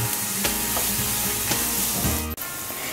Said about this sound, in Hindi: मिला लें इसे अच्छे तरीके से और हमें 2 मिनट तक सब्जियों को भी इसी प्रकार पका लेना है।